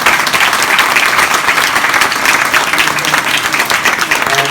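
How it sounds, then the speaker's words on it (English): A conference crowd gives the panel on mobile growth a big round of applause, loud, dense and even clapping that carries on unbroken from start to finish. "Can we give the panel like a big round of applause"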